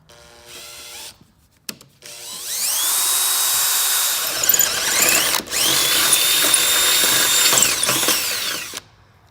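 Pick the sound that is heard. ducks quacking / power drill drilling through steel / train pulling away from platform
power drill drilling through steel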